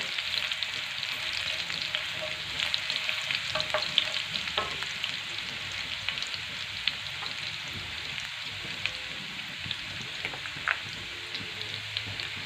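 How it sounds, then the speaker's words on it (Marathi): Garlic frying and being stirred in an iron pan or kadhai for a village-style tomato chutney, a steady dense sizzle throughout with occasional scraping stir clicks, fairly close and with no talking. "आता लसूण टाकून आपल्याला लसूण छान प्रकारे लाल रंगावरती परतून घ्यायचं आहे"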